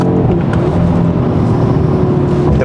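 A 2022 Audi RS3 engine revving in RS performance mode with manual shifting, a loud, continuous, close-up engine roar that holds steady throughout.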